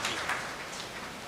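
An audience applauds as a party leader is welcomed onto the stage at a Tamil political gathering. Steady, fairly faint crowd clapping with a soft, rain-like texture continues throughout.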